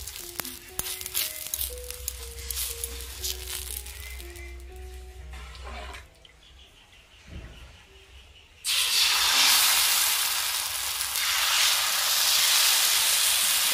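Batter for thin chakli pitha sizzles and hisses in an oiled pan, a steady frying crackle that drops away briefly and then swells into a loud, continuous sizzle close by.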